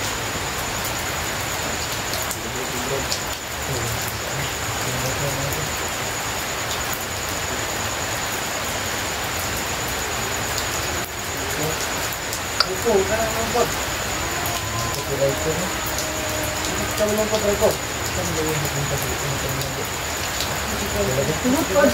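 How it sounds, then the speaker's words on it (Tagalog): Heavy rain pours in a steady, loud hiss that holds through the whole stretch, with scattered clicks and knocks rising in the later part while people talk faintly underneath. "Napakalakas ang ulan nun."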